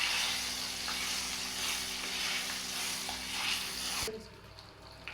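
Curry leaves sizzle loudly in hot oil for Assamese-style tomato pickle, a close, steady hiss that cuts off abruptly near the end, leaving quiet stirring.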